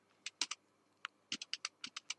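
Quick bursts of computer keyboard keystrokes while code is typed, close and crisp, with irregular clusters of taps and short pauses, no voice.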